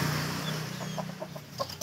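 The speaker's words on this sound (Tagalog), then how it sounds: "Daming manok dito." Several Aseel and Shamo chickens cluck in short, scattered bursts over a low background hum, fairly faint and at a middle distance.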